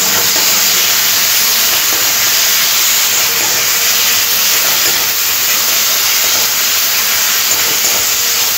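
Vegetables sizzle with spices and a splash of water in a pan, a loud, steady hiss of frying that runs unbroken throughout, close up with no voices.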